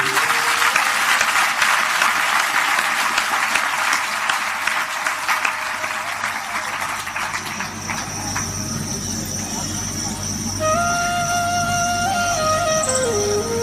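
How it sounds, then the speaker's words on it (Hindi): Steady applause from an audience at a devotional satsang fills the first half, then thins out and fades while a few tonal notes and background sounds take over. "आपकी ताली हमें नहीं जमी।"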